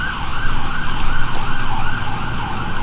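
An ambulance siren wails in a steady, rising-and-falling tone over a low rumble of road traffic, loud and continuous throughout with no talking, at a car meet with a Nissan 240SX S14.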